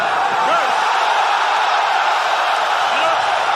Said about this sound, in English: This crowd is going berserko, I can tell you that.